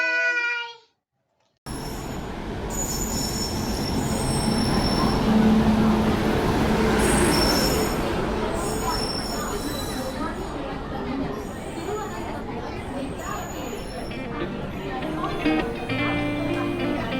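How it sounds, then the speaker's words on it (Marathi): The Netravati Express pulling out of Thane station gives a sustained low rumble and rail clatter, loud and steady, with faint high squeals and hums above it, after a brief silence at the start. "ठाणा स्टेशनवरून आम्ही 12:30च्या दरम्यान ट्रेन पकडली. ट्रेनचं नाव आहे नेत्रावती एक्सप्रेस"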